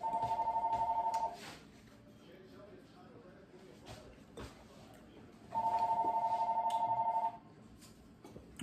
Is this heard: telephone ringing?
yes